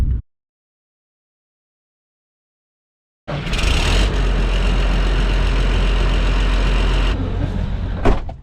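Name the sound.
9520 tractor engine warming up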